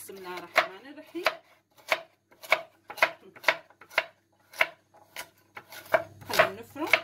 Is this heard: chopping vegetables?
yes